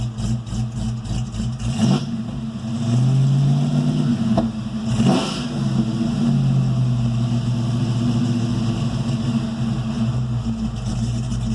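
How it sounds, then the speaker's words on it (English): An intercooled Fox-body Mustang 5.0L V8 with a Whipple supercharger revs up loudly from idle, the engine note rising and holding before settling back, close and dominant with no talking. "it's okay at an idle, but as soon as you rev it up, the alternator light comes on"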